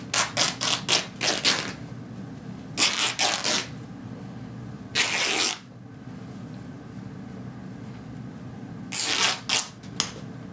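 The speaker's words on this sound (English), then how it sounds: "The best way to get your fabric on the straight of the grain is to make a small half inch cut and then tear it." Quilting fabric torn by hand along the straight grain after a small snip, giving several sharp, loud ripping bursts in quick clusters separated by pauses, near and alone.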